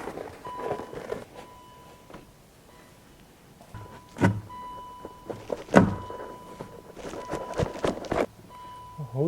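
Power window of a BMW E38 740i lowering with a steady electric motor whine, close up, interrupted by knocks and clunks of working on the door.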